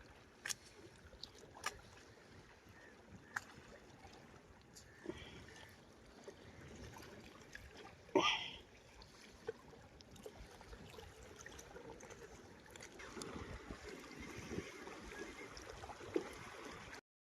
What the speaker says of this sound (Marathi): बघा बोट बघा